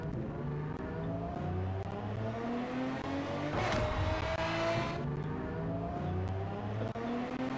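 Game car driving in Garry's Mod, a continuous engine drone with shifting revs, a brief tire squeal or skid in the middle, and no talking.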